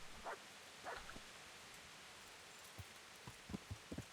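Steady, soft rainfall hissing throughout in the video game Kingdom Come: Deliverance, with a few faint low thumps and yelps scattered over it; no talking.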